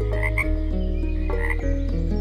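Cartoon frog croaking in an animated episode, a steady run of low, rhythmic croaks that fill the whole stretch, loud and close, with a couple of brief breaks and no speech.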